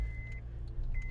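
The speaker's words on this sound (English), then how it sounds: "That beeping is my seatbelt thing." A car's seatbelt warning chime sounds twice, a thin steady beep held briefly at the start and again near the end, faint against a low idling engine rumble inside the cabin.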